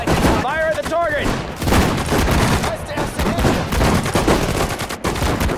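Battle gunfire in the World War II strategy video game Sudden Strike 4, rapid overlapping rifle and machine-gun bursts crackling continuously at steady loudness, with brief whistling tones and voices calling out among the shots.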